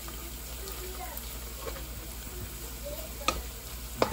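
Mussels sautéing in a pan for ginisang tahong: a quiet, steady sizzle with faint stirring and a couple of sharp utensil clicks near the end, while a voice talks softly over the cooking.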